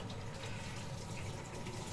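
Soy sauce is poured over a homemade sushi cake in a kitchen, a steady close liquid gush that runs without pause for about two seconds, with no voices.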